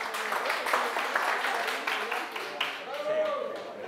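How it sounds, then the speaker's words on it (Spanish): Audience applause for participants at a business creativity conference in Spain, a steady wash of clapping from a room of people, fairly even in level, with a voice speaking over it near the end. "un aplauso para los compañeros"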